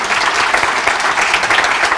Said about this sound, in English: So how about if we give our panel a round of applause?